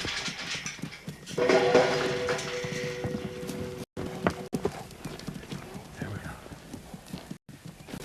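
Hooves of a wild mustang clop steadily at close range, with a loud whinny partway through and a faint voice underneath.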